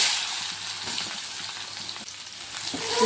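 Onion sizzling in hot oil with cumin, salt and a pinch of asafoetida for a masoor dal tadka, a loud, steady close-up frying hiss with faint stirring scrapes.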